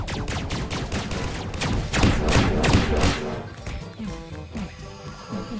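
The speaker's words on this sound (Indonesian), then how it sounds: "Kita sambil tembakin ini aliennya, guys. Tembak terus." Rapid video game gunfire shooting aliens in a Roblox prison escape game, a dense fusillade of overlapping shots and crashes, loud and continuous, with a voice talking over it.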